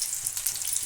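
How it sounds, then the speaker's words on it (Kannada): Fish coated in masala frying in oil in a pan, a steady close hiss of sizzling with faint crackle throughout a brief moment, no voices. "ಇವಾಗ ಎರಡು ಸೈಡು ಚೆನ್ನಾಗಿ ಫ್ರೈ ಆಗಿದೆ."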